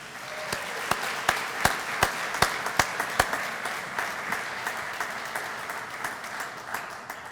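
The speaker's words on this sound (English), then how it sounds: "So we're going to give her a round of applause" Audience applause at a college athletic Hall of Fame ceremony: a steady wash of many hands with distinct sharp claps standing out, holding fairly even for several seconds before easing slightly.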